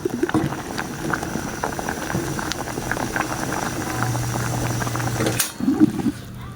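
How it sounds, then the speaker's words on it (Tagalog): A pot of mung bean soup with moringa leaves bubbles and simmers steadily up close, with faint clicks and a low hum, then a brief clatter near the end. "Yan, kumukulo."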